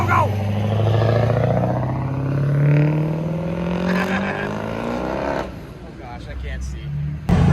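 A Ford 6.4 Powerstroke diesel truck launches at full boost in a Walmart parking lot, its loud engine droning and climbing in pitch as it pulls away, then fading, with people talking and shouting over it.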